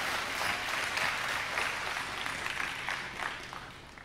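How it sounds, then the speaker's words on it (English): A keynote audience at a gaming event breaks into a short burst of applause, a dense, loud crowd of clapping that holds steady and then tapers slightly near the end. "round of applause for Tom Peterson"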